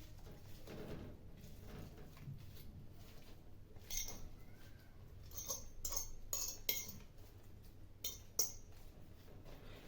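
A spoon spreads boiled potatoes in a baking dish for a potato moussaka, making faint, scattered clinks and scrapes against the dish in a quiet kitchen with no talking.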